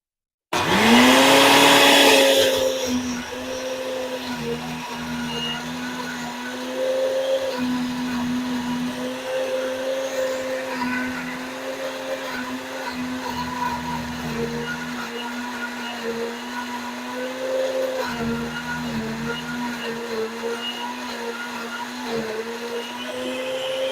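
A blender grinds pomegranate shells and seeds, opening with a loud surge and then settling into a steady whirring drone with a humming tone that dips and wavers as the blades churn.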